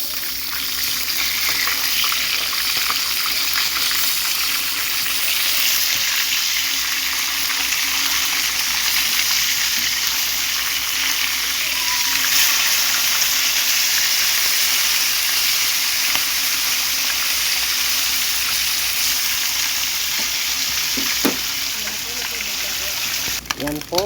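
Food frying in hot oil gives a loud, steady sizzle and crackle throughout, with a few light clinks near the end as the pieces are turned over.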